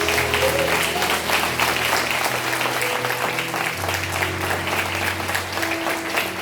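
A church congregation gives strong applause to the Lord during an evening service, a loud, continuous wash of clapping heard throughout, with faint sustained musical tones beneath it.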